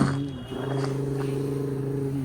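A voice imitates a toy car engine with a steady, droning vroom sound, held almost continuously and fairly close, with a slight dip near the start.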